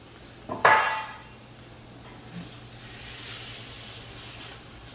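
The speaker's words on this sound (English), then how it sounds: "I'm going to apply another spray of non-cooking spray." A short, sharp hiss of cooking spray onto a pan bursts once, close and loud, then fades into quiet kitchen background hum.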